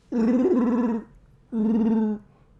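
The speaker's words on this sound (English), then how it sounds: "Can you hear the Wookiees growling in the distance?" Two long, loud, throaty Star Wars Wookiee growls, each roaring call lasting nearly a second, separated by a short pause, with no talking.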